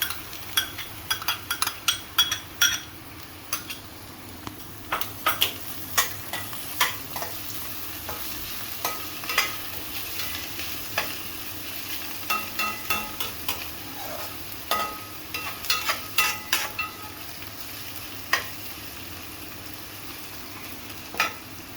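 Onions with garlic and ginger sizzle and fry in a pan for the kofte curry, with repeated sharp clinks and scrapes of a spoon stirring throughout, close and steady.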